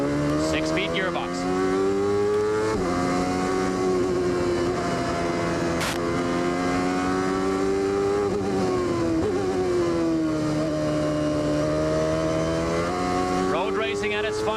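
CART race car engine at Elkhart Lake road course in 1995, a loud, sustained high-revving whine with rising pitch sweeps as gears change, running continuously while a commentator talks over it.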